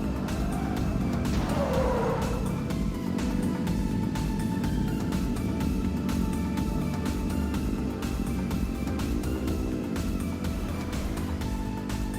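Cars racing in the video game Simple Sandbox 2, with a continuous engine drone and tire squeals rising and falling over a steady backdrop of game sound, with no talking.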